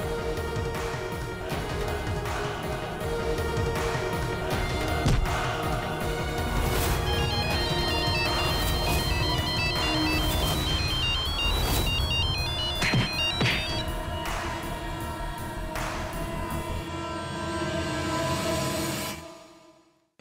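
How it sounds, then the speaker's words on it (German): A telephone rings on and on unanswered, a bright repeating electronic ringtone holding steady for about twenty seconds before cutting off abruptly, with no voices over it. "Weder Dad noch Jivan gehen ans Telefon ran"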